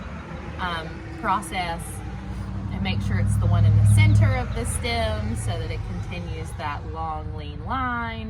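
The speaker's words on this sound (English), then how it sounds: "you'll have to excuse the car noise" Car traffic on a busy street rumbles in the background, swelling as a vehicle passes close by midway, beneath someone talking throughout.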